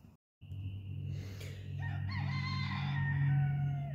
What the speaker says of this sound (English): as the rooster continuously crows, because that light is always on there